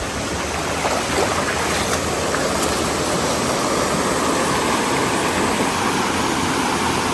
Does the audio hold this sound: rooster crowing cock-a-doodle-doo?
no